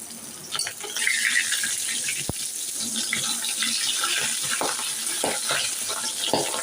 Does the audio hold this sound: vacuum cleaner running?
no